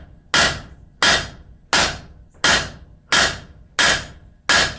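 Seven sharp, ringing hammer blows strike hot copper being forged into a pointed leaf end, at a steady rhythm, each about two-thirds of a second apart, loud and close.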